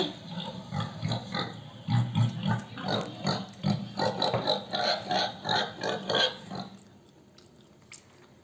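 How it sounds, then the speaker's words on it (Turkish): A pig grunts repeatedly in quick, rhythmic bursts, close and fairly loud, then falls quiet near the end. "Domuz."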